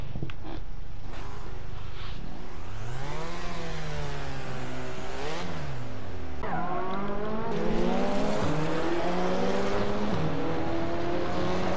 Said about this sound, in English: There's the all-wheel drive launch of the GTR, rocketing Hikari up 2 consecutive places